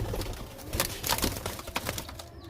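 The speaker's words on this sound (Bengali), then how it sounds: "হ্যাঁ এইটা নর পায়রা আছে, আর এইটা তোমার মাদি পায়রা" Pigeons at a loft, a male and a female pair, cooing in low repeated calls close by, with brief flutters and soft rustling around them.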